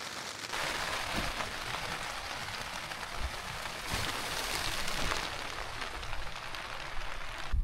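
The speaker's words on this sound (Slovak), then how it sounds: "Keď budem takto ticho, isto budete počuť kvapky" Raindrops patter steadily on a surface outdoors along a Swedish hiking trail, a soft continuous hiss with occasional louder drips and no voices.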